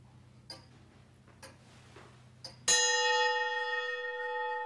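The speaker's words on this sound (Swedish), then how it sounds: "Vilken högljudd klocka." A clock ticks a few times, then strikes a loud, ringing chime that sustains and slowly fades.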